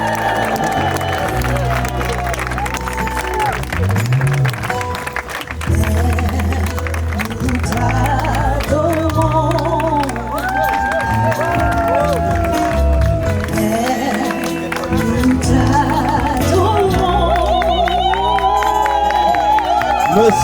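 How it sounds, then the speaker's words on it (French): At a Congolese and Ivorian wedding celebration in Paris, guests applaud and cheer over loud, bass-heavy music, the crowd noise swelling steadily with scattered shouts throughout. "je vous entends pas, on applaudit plus fort"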